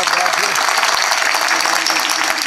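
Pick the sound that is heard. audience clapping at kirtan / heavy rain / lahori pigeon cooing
audience clapping at kirtan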